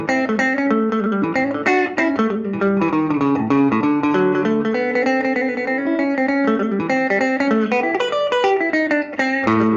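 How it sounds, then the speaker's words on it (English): Electric guitar played through a Watkins Dominator reissue valve amp with distortion, a sustained run of gritty, driven chords and notes ringing steadily and loud, close up with no voice over it. "So here with a bit of distortion."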